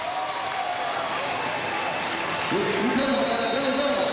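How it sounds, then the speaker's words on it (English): Crowd noise at a football game between the Lehigh Valley Outlawz and Chesapeake Tide swells steadily through the stands, broad and continuous, with a voice rising over it in the second half. "Crowd getting into it here"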